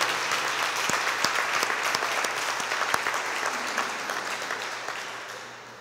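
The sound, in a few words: church congregation applause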